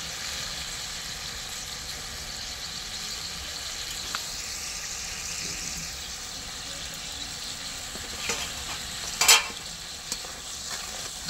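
Hog plum chutney with sugar is stirred in a pan over a steady, soft sizzle, with occasional scraping strokes and a sharper clatter of the spoon against the pan near the end.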